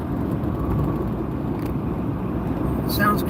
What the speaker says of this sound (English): There's 7 lanes of traffic going north right now.